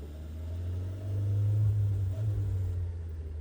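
A barn-find Fiat's engine idles and rises slightly in steady low rumble as the car sets off in first gear on its first drive in 25 years, continuous and close.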